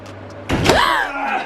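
A doorway pull-up bar falls and slams against a wooden door frame with a single loud bang at mid-clip, followed by a rising vocal groan.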